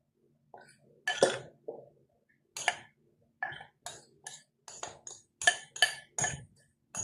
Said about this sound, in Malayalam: ശേഷം ഇതിലേക്ക് നമ്മുടെ കൊക്കോ പൗഡറും മൈദയും കൂടെയുള്ള മിക്സ് ചേർത്ത് മിക്സ് ചെയ്തെടുക്കാം